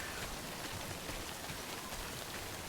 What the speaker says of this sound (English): the sound of the rain and the footsteps